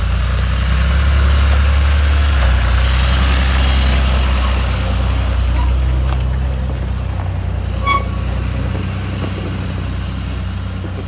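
A John Deere 3050 tractor runs with a steady low engine drone, loud and close, holding a constant idle-like rumble throughout near a silage pit, with no talking.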